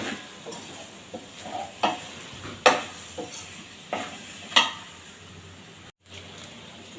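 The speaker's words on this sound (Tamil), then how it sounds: "மீல் மேக்கரை போட்டு ஒரு வதக்கு வதக்கிட்டு அந்த மசாலாலாம் அதில் ஊறணுங்க" Soya chunks sautéing with masala in a hot pan, a continuous close sizzle broken by several sharp scrapes and clinks of a spoon stirring against the pan, with no one talking.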